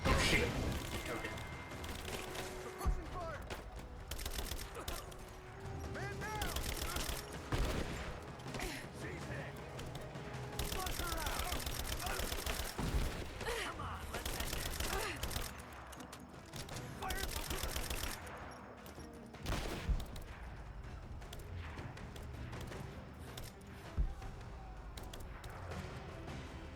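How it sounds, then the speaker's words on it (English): Rapid bursts of gunfire in the video game Rise of the Tomb Raider crackle through a loud, busy soundscape, with sustained automatic fire and scattered single shots over nearly half a minute. "I can't believe gunfire is going on in this game."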